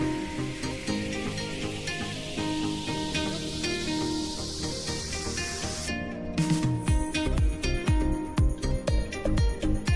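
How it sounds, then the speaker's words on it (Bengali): Chopped onions dropped into hot oil in a pot at an outdoor village picnic cookout, giving a steady spraying hiss with a sharper burst of crackling sizzle partway through, close and continuous with no talk. "তেলটা গরম হয়ে গেলে এর ভিতরে পেঁয়াজ কুচিগুলো দিয়ে দিচ্ছে"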